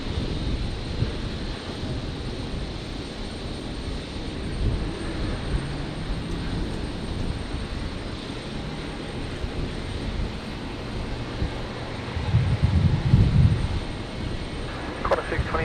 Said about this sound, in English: obviously the Emirates 380 departure here